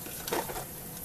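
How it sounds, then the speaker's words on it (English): A tempering of spices sizzles in a pan for rava idli, a short, soft crackling fry with a brief stir or clink, without speech. "As you can see, this has started sizzling."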